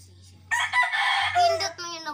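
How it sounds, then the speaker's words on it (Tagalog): A rooster crows once, loud and close, in a single drawn-out cock-a-doodle-doo that rises and then trails off over a faint low background hum. "Manok pula."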